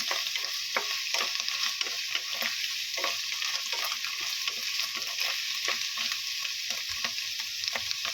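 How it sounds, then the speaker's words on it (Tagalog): Mushrooms sizzle steadily in a hot pan while being stirred, with repeated scraping strokes over a constant bright frying hiss, close and fairly loud, no talking. "Lutuin po muna natin ng mabuti itong mushroom."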